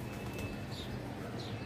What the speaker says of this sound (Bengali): এই যে কবুতরগুলো